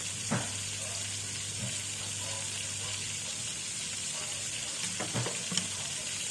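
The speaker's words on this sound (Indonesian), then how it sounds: "Kita tumis dulu bumbunya." Spice paste for a Hainan chicken marinade sautéing in a pan, a low continuous sizzle broken by a few scraping stirs and clinks, fairly quiet and close.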